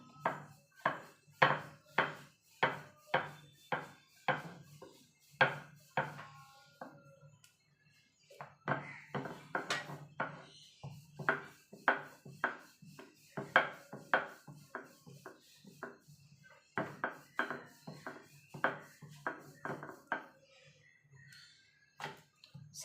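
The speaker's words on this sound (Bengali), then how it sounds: "অল্প করে ময়দা দিয়ে আমি বেলবো। হালকা হাতে কিন্তু বেলতে হবে, খুব জোরে কিন্তু চাপ দেওয়া যাবে না।" Aloo paratha dough dusted with a little flour and rolled out with a wooden rolling pin under light pressure: close, rhythmic knocks and rolling thumps repeating steadily with brief pauses, no voices.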